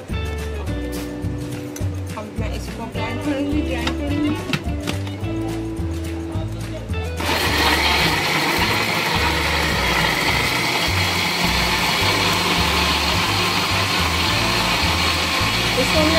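An electric mixer grinder blends summer drink ingredients with salt and sugar, a steady loud whirring roar that starts partway through and continues to the end, after a stretch of background music.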